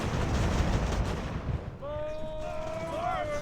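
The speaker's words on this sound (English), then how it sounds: "the captured cannon is offering fire support" Cannon fire rumbles through a naval-era battle in the game Ultimate Admiral: Age of Sail, with dense low booms and crackle during the first half, then a thinner battle din under a sustained tonal sound.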